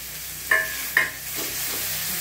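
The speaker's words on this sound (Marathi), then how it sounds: "थोडंसं परतून घ्यायचं तेलामध्ये।" Grated raw mango for keeri chunda stirring in hot oil with asafoetida and cumin over a low flame: a steady soft sizzle broken by two sharp spoon scrapes against the pan, with no voices.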